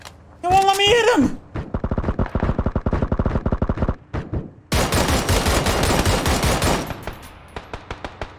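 Gunfire in the video game PUBG, rapid automatic bursts of close shots with short pauses, followed by a longer dense volley, while a man yells briefly at the start.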